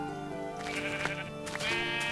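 Minecraft sheep bleat several times in quick succession, wavering and fairly clear against a faint game background, with no speech.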